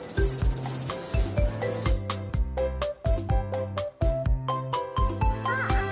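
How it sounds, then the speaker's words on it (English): A shrill, buzzing insect drone fills the opening seconds, then fades as a rhythmic musical backing carries on. "Cicadas."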